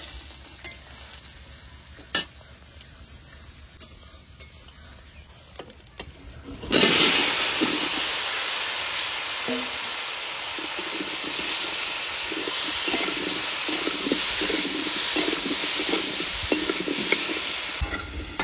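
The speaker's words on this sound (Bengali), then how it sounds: "এবার ফুলকপিগুলো ভেজে নেবো।" Salted cauliflower florets hit hot oil in a pan partway through and break into loud, steady frying that carries on to the end. Faint kitchen clatter comes before the sizzle, and no one speaks.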